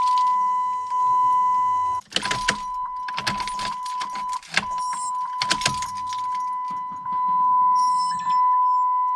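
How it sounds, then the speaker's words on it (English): PT Cruiser fuel pump priming as the key is cycled after a pump replacement: a steady electric whine switches on and off in stretches, broken by a few bursts of key jangling and clicks close to the car. "so now we're going to prime the pump. So we just want to cycle the key a few times."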